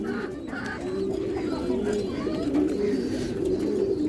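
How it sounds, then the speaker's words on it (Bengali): Old-breed Bagha pigeons, a pen of down-shaped birds kept with eggs, coo steadily in soft rolling bursts close by, layered over one another with a bit of background noise. "এই দেখেন দর্শক, এই যে দেখেন পুরান জাতের বাঘা কবুতর।"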